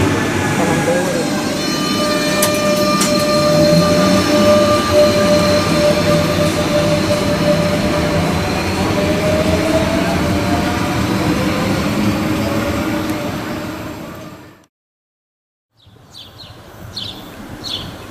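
A Rodalies R7 commuter train rolls through Sant Andreu Arenal station with a sustained loud rumble of wheels on rails and faint squealing tones, then drops to near silence before quieter sounds return.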